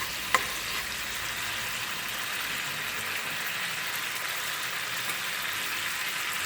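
Tomato puree fries in a pan with a soft, even sizzle and hiss, continuous and fairly quiet, with one small clink near the start.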